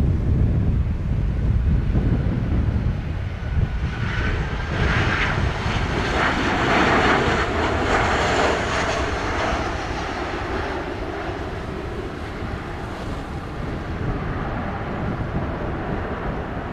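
Fixed-wing airliner engines roaring steadily during airplane spotting at Montego Bay, Jamaica, a loud continuous jet rumble and whine with heavy wind noise on the microphone, rising and then fading slightly as the aircraft passes.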